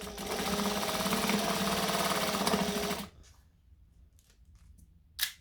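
A sewing machine stitching jacket fabric forward and back runs in one loud, steady, close whir for about three seconds, then stops, leaving faint handling noise and a short rustle near the end.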